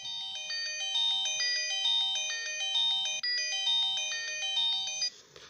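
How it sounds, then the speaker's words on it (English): A U8 smart watch plays a bright electronic ringtone, a repeating melodic chime pattern looping several times at moderate level before cutting off abruptly. "You got different ringtones on there as well."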